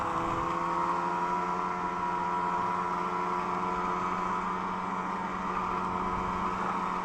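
A snowmobile rides over thin snow in northeast Pennsylvania, its engine a loud, steady droning hum held close throughout with no change in pitch and no voices.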